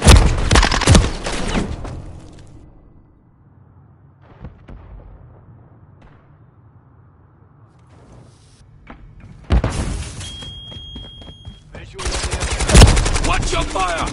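Gunfire in Modern Warfare 3 multiplayer, loud close automatic bursts that open the scene, then a quieter stretch with scattered distant shots before heavy rapid fire returns and continues to the end.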